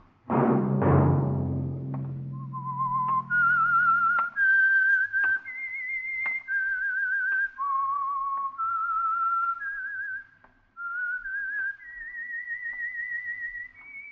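A clear, melodic whistled tune, the 1940s radio theme of The Whistler, rising and falling in sustained notes, opening with a low thud and a short burst of noise before the whistling begins.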